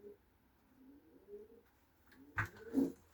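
Soft low cooing of Budapest high-flying pigeons, a few quiet murmuring calls, then a louder coo near the end.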